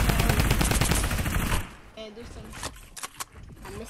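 Rapid, loud bursts of automatic gunfire from the Fortnite video game fill the first second and a half, followed by a few scattered sharp shots and clicks as a voice speaks over the action.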